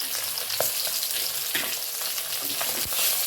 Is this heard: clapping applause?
no